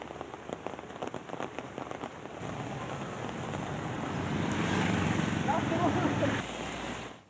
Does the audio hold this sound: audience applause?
no